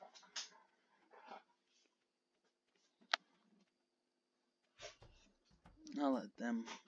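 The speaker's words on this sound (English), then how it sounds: "And my dogs are at it again." Dogs in the Stardew Valley farming game at nightfall, giving a few short yips and whimpering barks, loudest in a cluster near the end, with sparse quiet gaps between.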